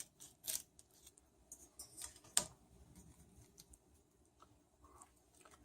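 Quiet, close snips and clicks of scissors cutting through shrimp shell, several irregular cuts over faint background.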